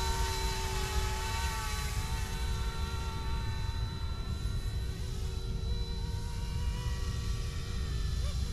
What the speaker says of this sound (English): Sweet little helicopter.